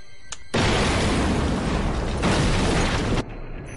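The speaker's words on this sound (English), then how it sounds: "let's blow this wall down, let's go explosive, let's breach through this wall" An explosive breach blows down a compound wall during a night raid: a sudden, loud, sustained roaring blast lasting nearly three seconds, with a faint click just before it and quieter noise after.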